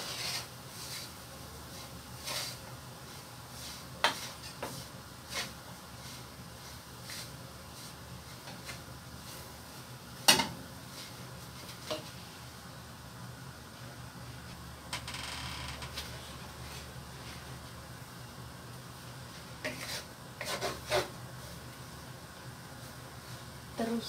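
Ketan bintul, sticky rice with coconut, is stirred in a pan with scattered scraping and rubbing strokes and sharp knocks of the utensil against the pan, over a faint background hum.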